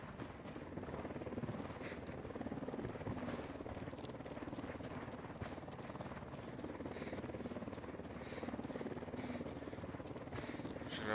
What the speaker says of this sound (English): Hélico, on approche.